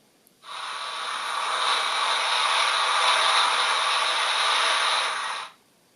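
A model train speaker plays a steam locomotive blowdown, a steady, forceful hiss of escaping steam that swells in, holds evenly for about five seconds, then stops.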